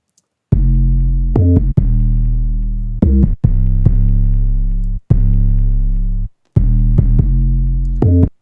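Synth bass line processed through the Surfer EQ pitch-tracking plugin, a loud, deep sustained tone played as a sequence of held notes with crisp onsets and brief gaps, alone.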